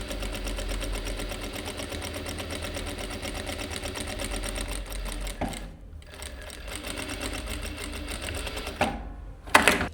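Sewing machine stitching fabric for a tower placket, with tension set slightly high, giving a steady loud mechanical whir for several seconds, then a pause and a short final burst of stitching.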